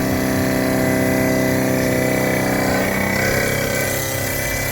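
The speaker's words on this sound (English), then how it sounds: "Got the brake booster making that noise." The brake booster on an Isuzu NPR truck with a GM V8 gives off a loud, continuous droning whine that holds steady without a break.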